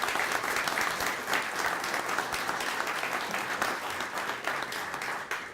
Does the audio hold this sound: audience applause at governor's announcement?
yes